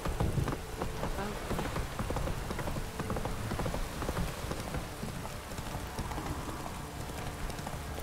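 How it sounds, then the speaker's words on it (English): Heavy rain pours down steadily in the video game The Witcher 3, a dense hiss of drops drumming on surfaces with no pauses. "This downpour's a bastard"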